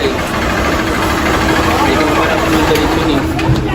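A motorcycle engine idles close by with a steady, loud mechanical rumble and faint knocking. The bike is smoking and making engine noise.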